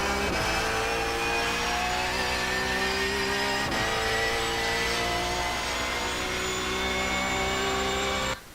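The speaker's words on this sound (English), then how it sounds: "So right here, I'm starting to pick up the throttle" A race car engine accelerates at Watkins Glen in iRacing. It gives a loud, steady, close whining drone that climbs slightly in pitch for several seconds with no talking, then cuts off abruptly at the end.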